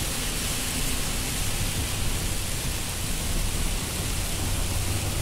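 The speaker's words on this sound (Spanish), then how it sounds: "Algo insólito en el desierto, mira, está lloviendo bien" Heavy rain in the desert makes a dense, steady hiss and roar that stays constant throughout, with no voices.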